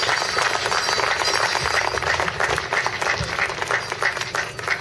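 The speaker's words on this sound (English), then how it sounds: "let's bring him out with a gigantic round of applause" An audience at a Hopi storytelling and dance event gives a steady round of applause, a moderately faint, dense patter of many hands clapping that continues for several seconds.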